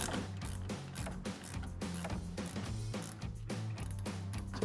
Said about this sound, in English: Now we can go ahead and get our top nut tightened down using our 18mm ratcheting wrench.